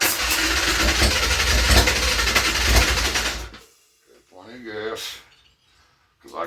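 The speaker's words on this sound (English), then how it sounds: "So much compression in this engine, man. She's hard to start." A high-compression motorcycle engine cranks and catches, running loud and rough for a few seconds before cutting out, followed by brief mechanical clanks and a voice nearby.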